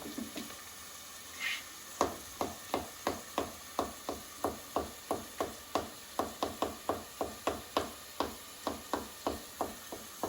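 Garlic cloves are rough chopped with a knife on a cutting board, a quick, steady run of about twenty-five crisp, evenly spaced taps, close and clear with no talking.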